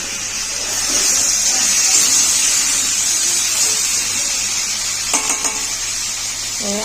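Tomatoes and green chilies frying in a pan give a continuous bright sizzle with occasional clinks of a utensil against the pan, close and steady throughout.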